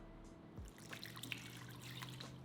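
A cup of water is poured into a prime rib jerky making kit mix, a soft, quiet trickle with a few faint drips and splashes.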